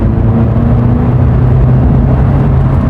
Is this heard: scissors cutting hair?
no